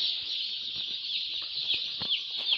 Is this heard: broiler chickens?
yes